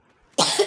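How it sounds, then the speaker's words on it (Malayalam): A single sharp, close human cough bursts out after near silence and rings for a moment, heard during a Free Fire mobile game session. "ഇത്ര ചുമ കൊണ്ട്."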